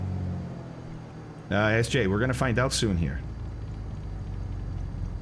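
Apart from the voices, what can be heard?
Piper Turbo Arrow aircraft engine idling during ground check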